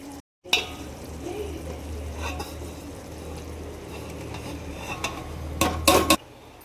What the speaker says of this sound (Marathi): हे बघा सगळीकडे आपण पसरवून घेणार आहे.